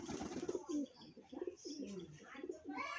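Domestic pigeons coo repeatedly in low, rolling phrases throughout, fairly close but quiet, with chirpy calls toward the end.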